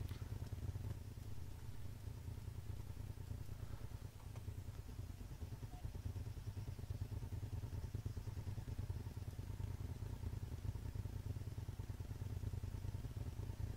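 Vehicle engine idling in the video game Altis Life, a low, steady rumbling drone with a faint rapid throb, quiet and continuous throughout.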